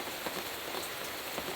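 Heavy rain drums steadily on a tarp over a camping van, a dense, even hiss of countless drops with no pauses, close and loud throughout.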